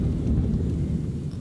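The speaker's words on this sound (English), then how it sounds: "That thunder." Thunder in the video game Monster Hunter World rolls as a dense, loud, continuous low rumble that fills the whole moment, with no voices over it.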